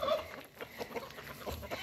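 Chickens and a rooster cluck softly in a backyard coop, short scattered calls over a steady low background, with no clear crow.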